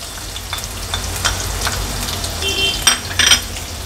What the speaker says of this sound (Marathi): आणि आता हा बारीक चिरलेला कांदा देखील आपण ह्याच तेलात ॲड करूया।